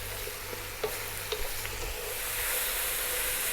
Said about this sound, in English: So we're going to go for another 4 minutes or so, stirring away, and that spinach will reduce down to pretty much